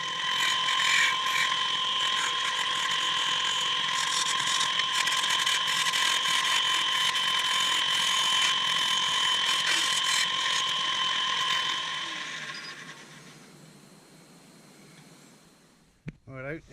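A woodturning lathe spins an oak acorn as a tool shapes it, giving a steady whirring, scraping drone that carries for most of the stretch and then fades as the lathe winds down, ending in a couple of faint knocks.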